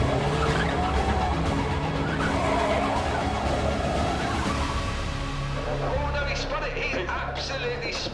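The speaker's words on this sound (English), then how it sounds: "Car 34 just spun a sort of a nice 180, I would suggest." A classic race car spins a 180 at a Crystal Palace sprint event, its tires skidding and engine droning at a distance beneath a steady commentator's voice.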